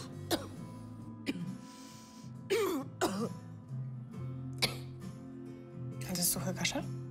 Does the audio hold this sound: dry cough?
yes